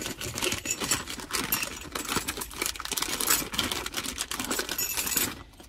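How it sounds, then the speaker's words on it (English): Switch knob trim rings from an Auxito kit being pulled from a plastic bag, a steady close crinkling and rustling with small clicking ticks throughout, no talking. "let's just get it out of the bag here"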